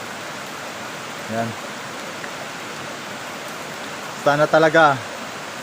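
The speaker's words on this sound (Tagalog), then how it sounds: "malakas talaga yung ulan" Heavy rain pours down steadily by a riverbank under an acacia tree, making a dense, even wash of noise. Someone speaks briefly over it twice.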